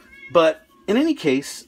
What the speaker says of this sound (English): If you hear a kitty cat there in the background